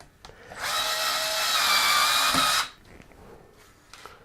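A power drill drives a screw during repair of an Acer 27-inch S71H monitor, one whirring burst of about two seconds with a rising whine, framed by quiet handling clicks and small taps before and after.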